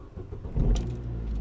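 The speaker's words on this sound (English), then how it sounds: "It's gonna start the engine to see what the drop is." A 2007 Vauxhall Opel Astra H with an ABS warning fault and low voltage cranks and starts, a short mechanical crank giving way to a low, steady idle rumble close by.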